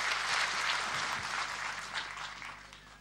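An audience applauds a folk singer at the Zavaidoc festival, dense sustained clapping that fills the room and slowly thins out toward the end.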